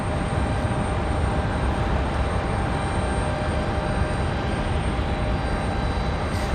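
A JetBlue Airbus A220-300 jet at Raleigh-Durham International Airport gives a loud, continuous roar with a high whine on top, filling the whole stretch without voices.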